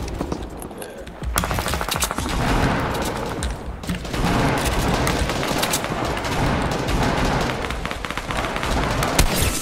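Dense, rapid gunfire sprays during a Fortnite Battle Royale match, loud and close with bursts of shots running almost continuously and occasional heavier thumps.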